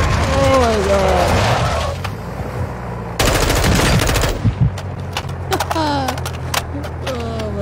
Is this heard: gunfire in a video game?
yes